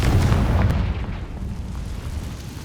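A deep, rumbling blast from the Confringo fire spell in the video game Hogwarts Legacy booms loudly at the start and then fades into a lingering low roar, heard alone.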